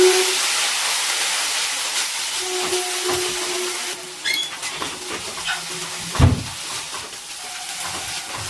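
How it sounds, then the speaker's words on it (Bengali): Ground spices, including Kashmiri chili powder and garam masala, are stir-fried in a pan for palak paneer, a steady sizzling hiss with scraping stirs, louder at first and easing later. "এবারে সব কিছু ভালো করে নাড়াচাড়া করে কষিয়ে নিচ্ছি।"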